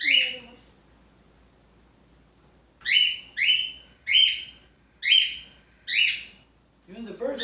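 A pet bird gives a series of bright, sharp chirps, about six evenly spaced calls close by, with a short one at the start and more sound at the end, otherwise quiet between.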